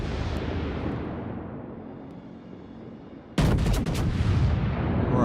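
Scharnhorst battleship main guns in World of Warships fire a sudden heavy salvo, a loud booming blast after a stretch of quieter rumbling ambience, with the roar sustained to the end.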